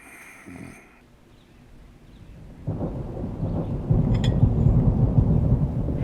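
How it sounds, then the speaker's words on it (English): A deep rumble builds into a steady wash of heavy rain with low thunder rolling underneath, growing louder and denser toward the end. "It started raining."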